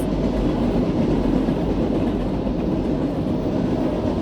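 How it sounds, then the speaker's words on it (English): A freight train rumbles past close by, a loud steady roar of rolling wagons with a faint rhythmic clatter throughout. "all of a sudden the freight train starts coming through"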